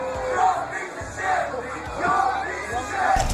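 Rock concert crowd chanting in loud rhythmic unison, swelling in repeated phrases over about three seconds, with a thumping low beat underneath.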